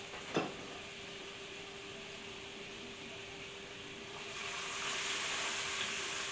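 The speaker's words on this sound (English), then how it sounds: "It's going to sizzle when it has that bacon grease." Celery and bell peppers sizzle quietly in butter and bacon grease in a hot pan, a soft steady hiss that grows a bit louder toward the end, after a brief clink.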